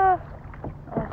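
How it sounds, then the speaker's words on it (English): Paddles dip into water as a small rowboat or kayak glides along, giving two soft splashing strokes about a third of a second apart, close to the microphone, with a faint voice at the very start. "Yes, baby, paddle, paddle, yeah, yes, yes, don't let us fall, please."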